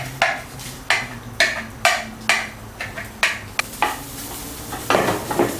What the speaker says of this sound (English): Heat up some oil in the pan, not too much. Then add the ginger and garlic the dry chili and part of the scallion.